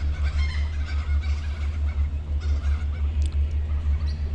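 Birds calling along the Murray River in Victoria, heard from a houseboat: faint, scattered calls sit over a steady low engine drone that runs throughout.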